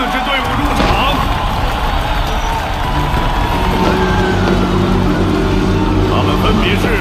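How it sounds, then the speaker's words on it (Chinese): An arena crowd cheers and applauds to welcome four semi-final teams at a youth elite tournament, a loud, continuous roar of whoops and clapping with voices over it throughout. "让我们以热烈的掌声欢迎晋级半决赛的4支队伍入场"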